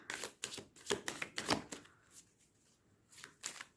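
Tarot cards being shuffled by hand up close in a series of crisp riffling bursts, with a quieter pause midway before a few more flicks, no voices.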